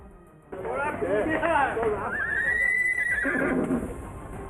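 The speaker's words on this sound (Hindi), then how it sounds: "इस मौके पर उन्होंने घोड़े की सवारी भी की।" A horse neighs during a ride: one long, loud whinny rises and falls over about three seconds, close by, with faint background voices and hoof noise.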